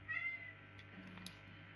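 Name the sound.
pet cat meowing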